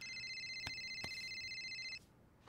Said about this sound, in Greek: Όποιανού χτυπήσει το κινητό,